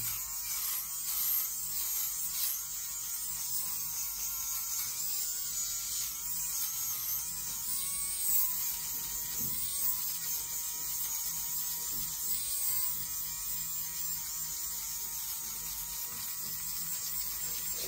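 A very small zero-gap barber shaver runs continuously with a steady high electric buzz, its tone wavering slightly as it moves, close and alone without talk.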